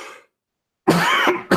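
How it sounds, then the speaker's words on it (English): A single harsh cough from a man, loud and close, a rough throat-clearing burst followed by a short second rasp, alone without talk. "And I needed to cough, sorry."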